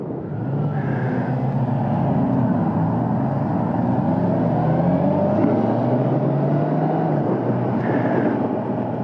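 A 2022 Kawasaki Ninja 1000SX four-cylinder engine at speed, a loud, steady, smooth drone with slowly rising and falling engine tones and wind rush, no voices.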